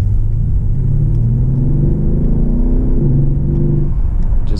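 A Mercedes S63 AMG Edition 130 rumbles deep and loud from inside the cabin while driving gently. The engine drone holds steady, rising slightly in pitch and then settling, with no talking.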